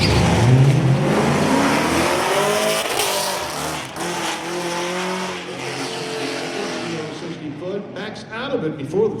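A supercharged Ford Mustang on a drag strip roars loudly at launch, its engine note rising and sweeping through gears, then easing as the driver lifts before the finish; a voice talks over the engine throughout.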